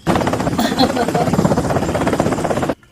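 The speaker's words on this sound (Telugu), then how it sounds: "హెలికాప్టర్ రెడీగా ఉంది," A helicopter stands ready in a Telugu film scene, its rapid rhythmic rotor chop loud and close under voices before it cuts off abruptly.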